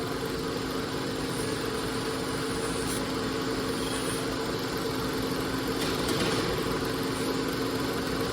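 An old American-made screw machine, a Brown and Sharpe, runs in a belt workshop with a steady mechanical hum and vibration, constant at moderate level throughout.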